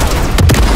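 A short, loud RPG blast booms in Call of Duty Modern Warfare 3, one heavy explosive thump with a rumbling low tail, close and alone.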